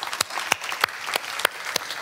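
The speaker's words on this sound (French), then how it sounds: "vous pouvez applaudir pour vous" Church congregation applauding during a sermon, with scattered sharp claps standing out over a thin, steady patter of hands, moderately loud and close, no voices.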